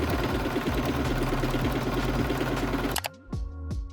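A sewing machine stitches steadily along the edge of a quilted fabric tote bag, its rapid mechanical chatter running loud and continuous before stopping abruptly, leaving a few faint clicks and thumps.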